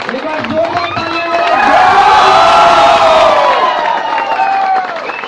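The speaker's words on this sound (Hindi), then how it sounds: "एक बार जोरदार तालियां।" A seminar audience cheers and claps loudly on request, with a roar of whoops and shouting voices swelling to a peak in the middle and then easing slightly. Clapping sits beneath the vocal cheering.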